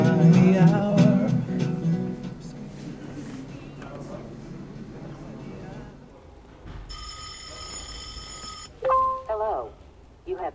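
An incoming call ringing through the cabin of a 2016 BMW 7-Series: a bright electronic ringtone with steady repeated tones in the second half, following talk, then a few short chime notes.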